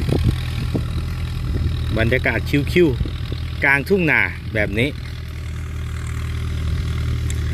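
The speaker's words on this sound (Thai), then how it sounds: "ตัวนี้ครับเป็นตัวรถไถฟอร์ดครับ 6610เพลาเดียว" Ford 6610 single-axle tractor with a disc plough, its diesel engine idling steadily in a rice field, a constant low rumble running throughout while someone talks over it.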